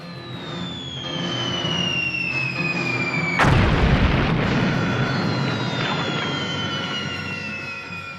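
Bombardment explosions from the original Star Trek episode Arena: a sudden loud, rumbling blast erupts midway, with falling whistle-like tones and dramatic music around it.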